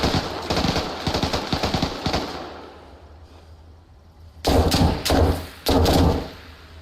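Gunfire in Arma Reforger during a 20 vs 20 competitive match around a church, a rapid string of close shots, a quiet lull, then several loud, heavy bursts near the end.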